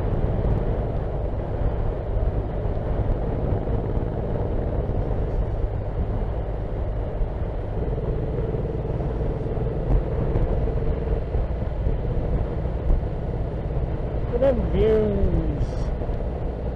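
A motorcycle ridden on a country road on a clear winter day, with steady engine drone and wind rumble throughout and a brief rising engine note near the end.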